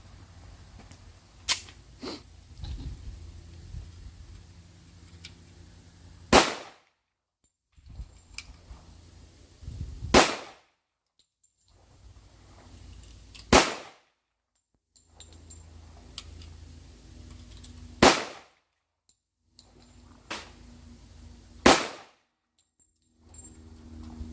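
A Girsan 1911C .45 ACP pistol fires Perfecta brass-cased ammunition at an outdoor range, giving six sharp, loud reports spaced roughly four seconds apart, with quiet background and small clinks between shots.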